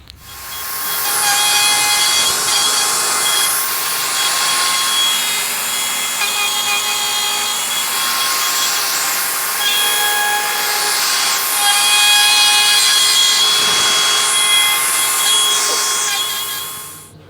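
A power tool cuts grooves for C-channel into the wood of a coffee table build with a resin river, a steady, loud, continuous whining and rasping that runs for about fifteen seconds with slight swells.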